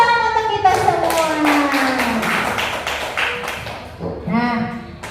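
Children in a classroom clap together at a teacher's call, a brisk burst of handclaps mixed with kids' voices and chatter, loud and close, with talking continuing over the clapping.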